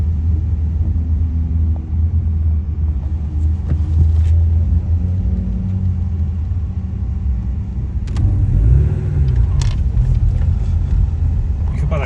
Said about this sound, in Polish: ruszała druga grupa, która już miała samochody z tych wyższych klas, mocniejsze, lepiej brzmiące